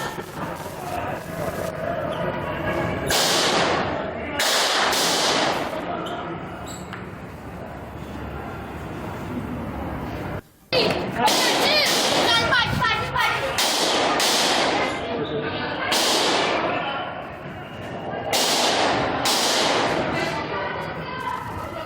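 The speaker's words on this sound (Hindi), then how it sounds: "गोलियों की आवाज सुनिए।" Gunfire at the Rohini court complex in Delhi cracks out in a long series of sharp, loud bursts, some in quick clusters, under constant shouting and commotion from a crowd.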